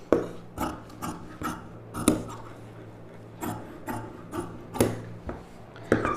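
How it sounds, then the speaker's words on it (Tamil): Scissors cutting blouse fabric along a marked straight line, a series of rasping snips and rubbing strokes repeating at an uneven rhythm, close and moderately loud with no talking. "இப்போ நம்ம அப்படியே இதை வந்து கட் பண்ணி எடுத்துக்கலாம்."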